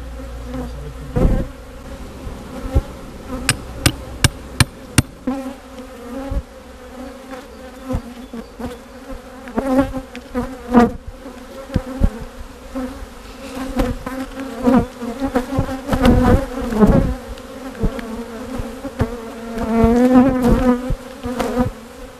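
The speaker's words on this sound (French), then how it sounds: "Avec ce nuage d'abeilles, tu vas réussir à voir la reine." A dense swarm of honey bees buzzes steadily and close during a colony rescue, with individual bees droning past in louder swells over the constant hum.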